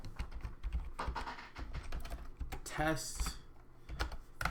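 Computer keyboard typing while writing Rust code, a steady run of light clicky keystrokes continuing under a voice as he speaks a word.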